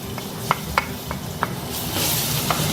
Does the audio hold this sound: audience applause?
no